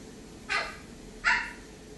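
A young child imitating a dog, giving two short bark-like yelps about three-quarters of a second apart, fairly close and over a quiet room.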